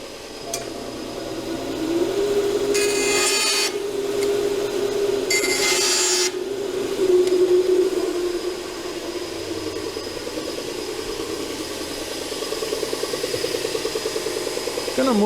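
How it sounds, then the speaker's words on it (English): A bandsaw hums steadily while cutting through a bent wood piece, the motor tone rising and falling with the load, broken by short bursts of higher rasping from the blade. "I'm going to cut this off on the bandsaw first"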